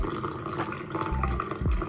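Ginger-infused water is poured into a cup, a close, trickling splash lasting about two seconds.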